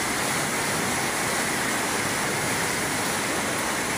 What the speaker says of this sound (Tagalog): Maririnig niyo yung power ng tubig, talagang solid talaga yung lakas